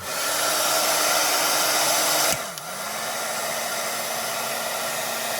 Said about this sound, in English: go ahead and hit the embossing tool before I get this cleaned up, because I'm afraid it's gonna dry